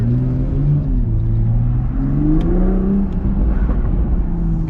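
A 2021 Toyota Supra with a new exhaust and turbo revs loudly and close, its engine note rising and falling in smooth sweeps over a deep steady rumble.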